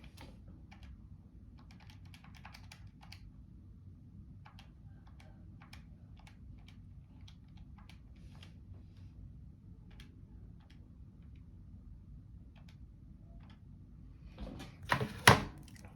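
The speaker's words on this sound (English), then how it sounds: "I'm just going to quickly type this in my calculator" Calculator keys are tapped in a quick, light series of faint clicks over a low steady hum, ending with a louder clatter.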